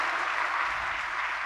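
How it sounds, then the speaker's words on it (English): Audience applause from a scene in the 1992 film Malcolm X, a brief, dense burst of clapping from a crowd, steady throughout without voices on top. "Everybody applauding."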